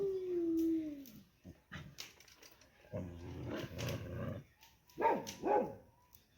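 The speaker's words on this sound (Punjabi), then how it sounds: "ਕੁੱਤਾ" A dog lets out a long, rising howl at night, followed by whimpers and a few sharp barks, close by in an otherwise quiet setting.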